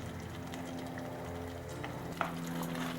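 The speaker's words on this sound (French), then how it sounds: "Mélangez bien le tout." Seasoned ragout mixture with salt, nutmeg and pepper sizzling in a pan while being stirred, a steady close frying hiss with a brief clink of the utensil near the end.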